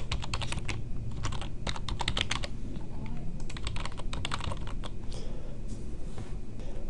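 Steady rapid keystrokes on a computer keyboard as a username and password are entered, clicks close and continuous throughout with a low background hum, no voices.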